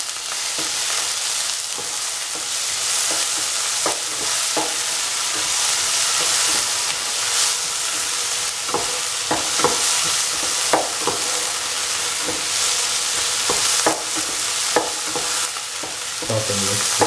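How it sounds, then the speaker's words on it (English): Tomatoes and potatoes being stirred in a sizzling pan with salt, a steady frying hiss broken by repeated scraping and clinking strokes of a utensil, close and fairly loud. "Salt and mix the tomatoes with the potatoes and the other ingredients."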